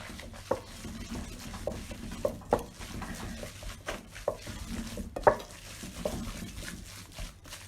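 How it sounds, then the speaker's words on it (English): Ingredients for Scotch eggs mixed by hand in a bowl, making soft, irregular squelches broken by a few sharp taps, fairly quiet, with no talking. "With your hand then, I prefer using my hand for this. You want to give it all a good old mix."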